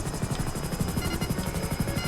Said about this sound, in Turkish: Bak aşağıdaki helikoptere bakın baba